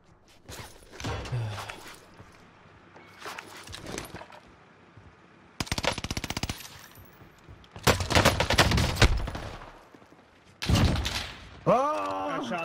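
Gunfire from a distance in a shooter video game comes in sharp bursts separated by quieter gaps, some shots rattling in quick strings, while players talk between and over the shots.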